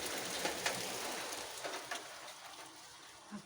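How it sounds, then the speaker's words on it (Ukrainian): Steady heavy rain pours down on a garden, a dense continuous hiss with scattered louder drops landing close by. "знову у нас на вулиці ось така злива"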